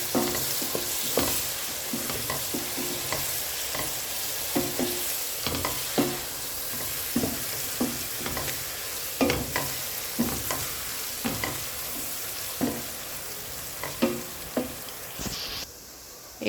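Garlic frying in a pan with a steady bright sizzle, while a utensil stirs and scrapes it in repeated sharp clacks across the whole stretch, close and loud, with no talking.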